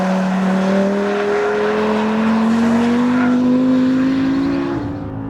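An Audi R8 V10 Plus, a 2014 car, accelerating hard on a race track, its V10 engine note climbing steadily through the revs. The engine is loud and close, then eases off and fades at the end.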